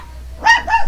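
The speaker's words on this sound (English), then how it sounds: "And here we go again with dogs barking." A dog barks twice in quick succession, two close, loud, bright barks after a brief quiet start, heard alone without talk.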